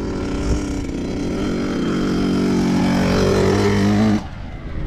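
Motocross motorcycles at an Arzamas dirt track, including a Kovi 250, make a loud engine roar that climbs and sweeps in pitch as they accelerate, then cuts off sharply near the end.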